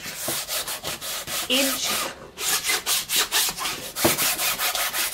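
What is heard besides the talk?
sanding old paint off a canvas with sandpaper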